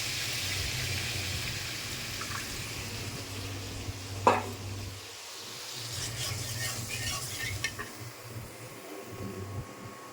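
A tablespoon of water hits browning egg curry masala in a hot pan with a sharp splash, then hissy sizzling and stirring scrapes continue steadily nearby.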